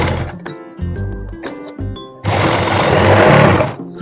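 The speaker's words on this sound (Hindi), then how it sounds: "अब हम इसमें सिलाई लगा लेते हैं।" An electric sewing machine stitches suit fabric in a loud sustained whirring burst lasting over a second, preceded by short clicks and tonal starts, close and alone without talk.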